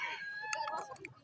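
A Pajé rooster crows nearby at a poultry market in Arapiraca, Alagoas, Brazil, a strained drawn-out call ending in short broken notes, fairly faint against a quiet background.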